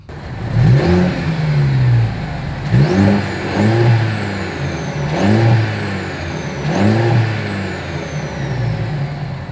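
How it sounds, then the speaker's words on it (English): A 2025 Mercedes-Benz E 350's exhaust revs loudly four times in a row, each sharp rise in pitch falling back to a burbling idle between blips. "As always, here is that exhaust clip."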